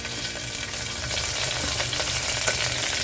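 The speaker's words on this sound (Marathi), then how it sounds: "आता यामध्ये मी टाकणार आहे उडदाची डाळ, मेथी आणि या आपल्या सुक्या मिरच्या आहेत, त्या आपण परतून घेणार आहे छानपैकी." Mustard seeds, urad dal, fenugreek and dry red chillies sputter and crackle steadily in hot oil in a pan for a tempering, a dense continuous sizzle with no talking.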